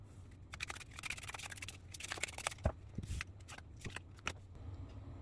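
Tarot cards are shuffled in quick riffling bursts, with crisp flutters and light taps in short clusters, close up in a quiet room with no talking.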